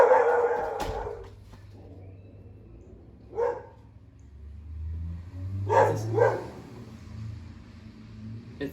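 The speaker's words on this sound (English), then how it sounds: "You're gonna bark?" A dog gives a few scattered barks and yips in a house, one sharp bark early and a short pair later, over a low rumble of a passing vehicle outside.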